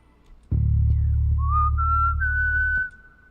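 A short whistled tone rises and then holds steady over a loud, sustained low bass note in a chill beats track, with no talking.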